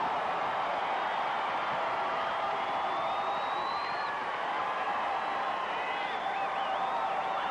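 A gymnastics arena crowd at a 1994 NCAA women's championship meet keeps up a steady, distant roar of cheering with scattered whistles and whoops, unbroken and fairly faint throughout.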